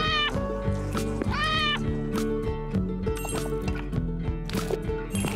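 Cat meowing in the role-puzzling adventure game Arranger, two long rising-and-falling meows near the start and another toward the end, loud and clear over layered game music.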